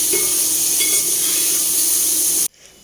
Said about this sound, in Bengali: এখানে সয়াবিনের সাথে আদাটা ফ্রাই করে নিচ্ছি যাতে আদার কাঁচা গন্ধটা না থাকে